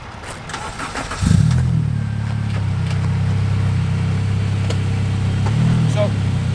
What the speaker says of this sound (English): So now he'll turn the car on and bring it up.